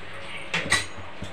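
Oil poured into a hot, empty karai (wok), giving a brief clatter and sizzle burst midway, with a smaller clink near the end, all fairly quiet and close.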